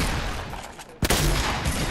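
Gunfire in the Fortnite video game: a muffled spray of shots gives way to a sudden loud burst at the midpoint, followed by a dense, sustained volley of rapid fire.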